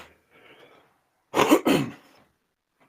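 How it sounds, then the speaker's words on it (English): Two loud, harsh coughs close to the mic, with a faint voice murmuring just before. "I have to cough."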